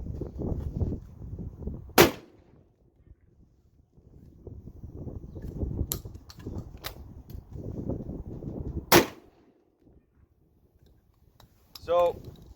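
A Springfield Model 944 12-gauge shotgun fired twice outdoors, two sharp loud blasts several seconds apart with wind rumble and handling noise between them and a faint voice near the end.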